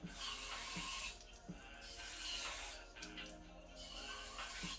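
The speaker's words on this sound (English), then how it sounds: "let's spray this down on the inside with some brake parts cleaner" Brake parts cleaner sprays from an aerosol can in a few steady hissing bursts onto a rusty Kia Sportage brake part, close and moderately loud, with short pauses between sprays.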